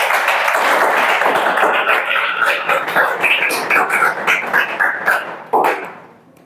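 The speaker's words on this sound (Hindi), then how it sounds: "ताली बजाओ जोरदार।" A classroom of students in a police recruitment coaching class claps loudly together, a dense, sustained burst of applause that stays steady and then trails off near the end.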